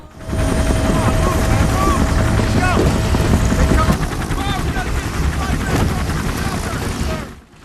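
A military helicopter carrying US soldiers, 1968 in the Vietnam jungle, roars loud and close with steady rotor thumping, mixed with bursts of gunfire and voices throughout.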